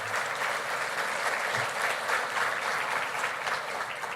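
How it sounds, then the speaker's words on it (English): Steady, dense applause fills a hall as an audience claps throughout a 2025 State of the City address in Davenport, continuous and moderately loud. "applaud yourselves."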